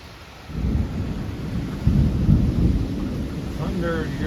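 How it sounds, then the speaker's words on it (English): Thunder rumbles low and steady during a heavy rainstorm heard from a back porch, with a louder roll swelling midway over the constant hiss of pouring rain. "Thunder, you hear the thunder?"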